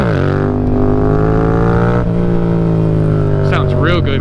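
A motorcycle does a second-gear pull, its engine droning loud and close with rising pitch, briefly dipping at a shift partway through, while a voice talks near the end.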